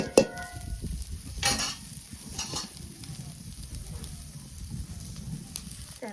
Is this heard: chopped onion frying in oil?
yes